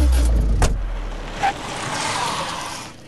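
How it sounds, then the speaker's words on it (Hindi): A car pulls out in a dubbed film scene: a loud burst of engine noise, then a steady low motor rumble as the vehicle moves off, with a brief higher whine partway through and no voices. "चलो गाड़ी निकाल।"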